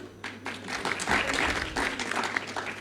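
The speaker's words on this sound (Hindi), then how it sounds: "तालियां बजाइए आप लोग।" An audience at a Hindi-Urdu poetry mushaira breaks into applause, a dense burst of clapping that swells and holds for a few seconds before tapering slightly.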